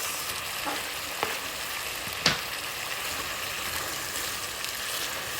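Garlic and onion sizzling in a pan as the base for chicken curry, a steady close frying hiss with a few sharp crackles and one louder pop.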